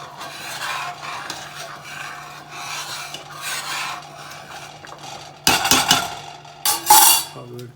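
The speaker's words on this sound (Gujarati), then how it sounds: "વચ્ચે વચ્ચે એક બે વાર આપણે હલાવતા રહીશું કે જેથી કરીને ઢોકળી એકબીજાને ચોંટી ના જાય" A spoon scrapes and rubs inside a cooking pot of Gujarati dhokli. The strokes are steady and rasping, with a couple of louder, sharper clatters near the end.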